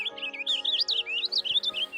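Purple finch singing in balsam fir woods along a mountain trail, a continuous bright warbling run of fast, varied chirps and trills, fairly close and clear over a steady faint background.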